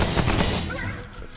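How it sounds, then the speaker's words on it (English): Grenade launcher firing in Remnant, a dense burst of heavy, booming reports up front that decays into a fading rumble over about a second, with a voice briefly underneath. "Grenade launcher of some kind."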